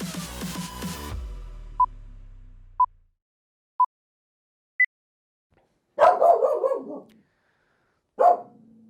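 After a musical jingle and a few isolated electronic beeps, a dog gives two sharp, close barks about two seconds apart against an otherwise silent background.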